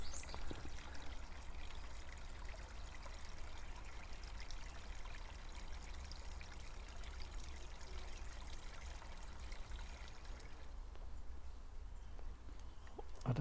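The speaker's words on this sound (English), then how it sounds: "in the foreground there, where the water is rushing, is the spring that really feeds all of these ponds" Spring water rushes steadily where it feeds a series of ponds at Longthorpe, a continuous broad wash of flowing water with no voices, holding an even level throughout.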